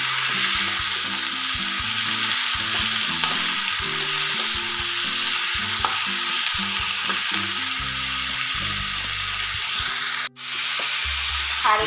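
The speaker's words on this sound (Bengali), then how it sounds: "এবার একটু ভাজা ভাজা করে নেব।" Mixed vegetables and prawns with turmeric, salt and slit green chillies fry in a pan, a loud continuous sizzle under repeated scraping stirs of a spatula, with one short pause near the end.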